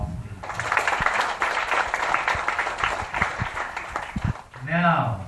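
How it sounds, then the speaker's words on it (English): Audience applause for school debate teams at a formal debate event, a dense wash of clapping from a room of people lasting about four seconds before a voice begins speaking. "Let's give them a round of applause, please."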